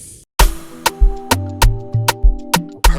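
Punchy afrobeat drum pattern with sharp hits and deep kicks over a sustained bass tone, loud and rhythmic after a brief pause.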